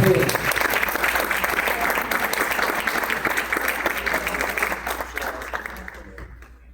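Audience applause at the close of an education panel on Mexico's Nueva Escuela Mexicana, honoring the moderator: dense, steady clapping from a large crowd that holds strong for several seconds, then thins and fades out near the end.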